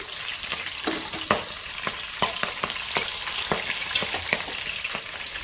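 Green chillies and curry leaves spit and crackle in hot oil for a chicken curry, a steady close sizzle broken by sharp pops and occasional stirring clicks, with no talking.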